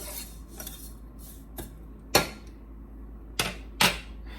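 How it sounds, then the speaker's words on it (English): Vermicelli toasting in a pan for beef enchiladas is stirred with a utensil, giving a few sharp scrapes and clinks over a faint background, close and without talk. "The vermicelli, it's starting to come. Keep kind of stirring it as it goes."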